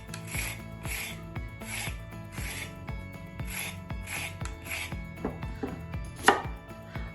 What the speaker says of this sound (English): but first obviously we need to peel them